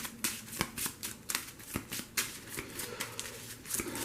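Playing cards for the Thunderstone Quest board game being shuffled at close range: a run of crisp riffling bursts and taps with short pauses between them, alone without talk.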